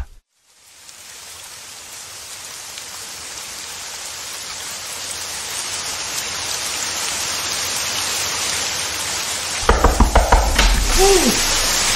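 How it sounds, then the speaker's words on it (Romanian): Steady rain in a radio play, a dense hiss of falling water swelling from silence and holding loud and even, with a few knocks and thumps near the end. "Marjorie, pe ploaia asta?"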